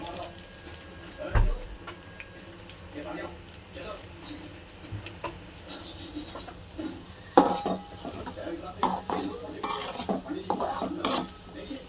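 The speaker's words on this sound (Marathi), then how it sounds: "मी बघा बटाटे मस्त त्याला फ्राय करून घेणार आहे" Potatoes frying in oil in a pan for a dry potato dish, giving a soft sizzle under clinks of a spatula and utensils against the pan, which grow louder and busier toward the end.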